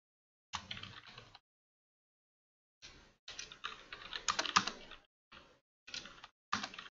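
Keys clicking on a computer keyboard as a quiz title is typed, several short bursts of quiet, close typing separated by pauses, with no voice.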